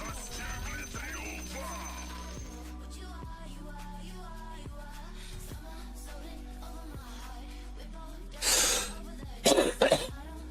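A person coughs several times in quick bursts near the end, loud against quiet background game sounds and a faint hum.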